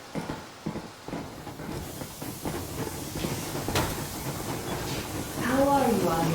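The steam locomotive Yermak in Metro Exodus gets under way with rising chuffing, hissing steam and clanking rail noise, building steadily louder, then a whistle-like tone near the end, with voices talking underneath.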